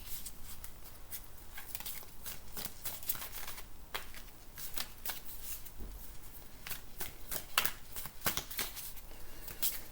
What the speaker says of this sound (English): I'm just going to deal out a few more cards here for the future.